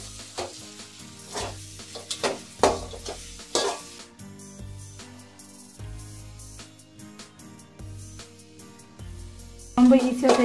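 Oil-fried idli pieces being tossed in a sizzling chilli masala for idli chilli, a close crackle with repeated spatula scrapes and knocks against the pan, while music plays throughout.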